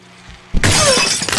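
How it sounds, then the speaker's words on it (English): A loud sudden crash of breaking glass in the video game Happy Wheels, with bright shattering noise sustained after the impact. "I'm gonna break this glass in my hand"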